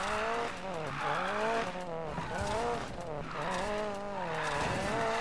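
Engine note of a car drifting in the racing game Need for Speed Payback during a Speedcross event, a rising and falling revving whine with sustained tire squeal, loud and continuous across the whole stretch.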